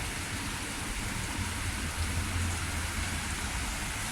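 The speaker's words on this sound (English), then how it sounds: "It's not downpouring, but like I said, see the rain?" Light rain falls steadily outdoors beside a house patio with wicker furniture, a dense even hiss of drops close by with no talking.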